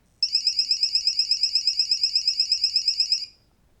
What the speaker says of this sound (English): It was just an alarm that I'm getting hit with laser, and then the system shuts off.